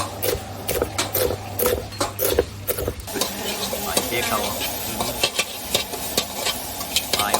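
Crispy pork fries in a pan for Thai basil rice, giving a steady hiss and sizzle broken by irregular stirring scrapes, loud and close, with voices in the background at times.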